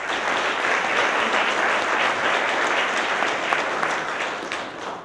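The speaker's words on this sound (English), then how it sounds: "A round of applause for David Palmer." An audience at a mayor's community service awards ceremony applauds an award recipient, a dense, steady wash of many clapping hands that holds at an even level for several seconds and fades slightly at the end.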